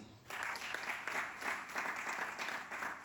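A church congregation bursts into steady, fairly distant applause that fills the space evenly, with no one speaking over it.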